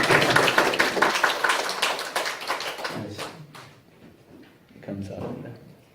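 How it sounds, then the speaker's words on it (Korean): A church congregation claps during a Sunday worship service, a burst of dense, fairly loud applause that thins out after a few seconds, followed by quieter scattered room sounds and a short spoken phrase. "우리 격려의 박수 한번 줄까요?"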